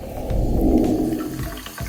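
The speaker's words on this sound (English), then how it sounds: "let the water out and then rinse off these precious dreadlock extensions with clean water again" Water rushing and splashing as a basin drains and dreadlock extensions are rinsed with clean water, a steady loud wash throughout.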